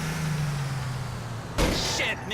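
A bus rumbles along in Grand Theft Auto IV, a steady low engine drone that holds close and even, then breaks into a sudden burst of hiss and clatter near the end.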